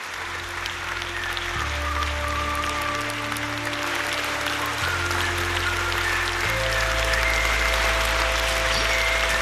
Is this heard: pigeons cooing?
no